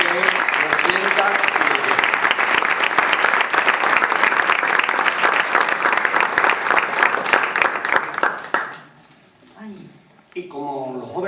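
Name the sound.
applause for the parish priest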